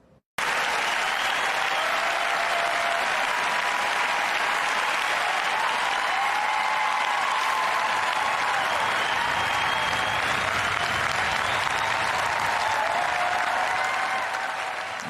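A crowd at the ESPY Awards applauds on its feet, a dense, loud, sustained wash of clapping that starts abruptly and keeps going evenly for the whole stretch.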